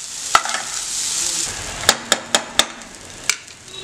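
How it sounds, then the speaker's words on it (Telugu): Paneer pulao rice is stirred in a pan over a soft sizzle, with several sharp spoon taps against the pan scattered through the mix, and no voices. "ఇప్పుడు మనం ఇదంతా ఒక మంచి మిక్స్ ఇచ్చేసుకుందాం"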